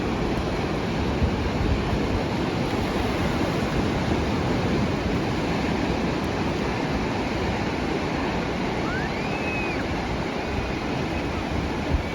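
Ocean waves at a beach wash in a continuous broad roar, steady and fairly loud for twelve seconds, mixed with some wind noise and no voices.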